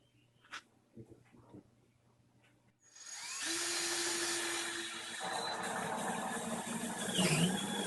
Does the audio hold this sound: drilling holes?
yes